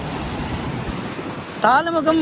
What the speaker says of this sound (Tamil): இங்கே அப்படியே இந்த கடலை பாருங்கள் கொந்தளிக்குது